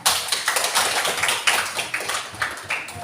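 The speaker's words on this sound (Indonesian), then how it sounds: "Tepuk tangan untuk teman-temannya" Classroom of students clapping for their classmates, a short burst of uneven, close hand claps with a steady rhythm throughout.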